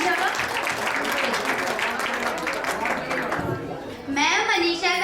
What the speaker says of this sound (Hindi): जोरदार ताली से स्वागत करेंगे मनीषा का।